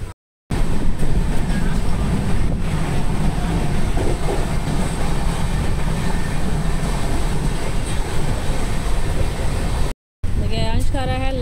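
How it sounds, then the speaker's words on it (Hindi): A passenger train runs along its rails, heard from inside the carriage as a steady loud rumble with rhythmic clicking of the wheels, briefly cut off near the end by a short gap. "हम लोग ट्रेन में बैठ चुके हैं।"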